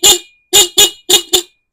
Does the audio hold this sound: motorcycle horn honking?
yes